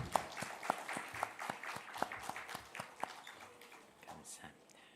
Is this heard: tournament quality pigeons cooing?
no